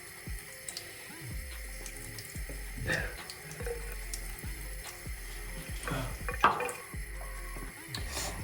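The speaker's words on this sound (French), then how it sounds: "Avec l'aide du verre, je vais venir rincer." Water poured from a glass to rinse newly grafted afro hair after a transplant, soft repeated pouring and trickling splashes close by, fairly quiet, in a few separate bursts.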